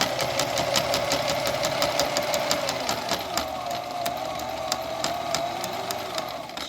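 A Husqvarna Viking 6690 sewing machine runs steadily stitching a zigzag pattern, a close, continuous fast needle clatter with an even mechanical hum throughout.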